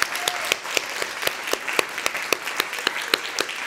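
A small audience at a prize-giving ceremony for a multilingual kamishibai storytelling contest claps; individual hand claps stand out in a fairly regular rhythm, close and moderately loud, with no talk over it.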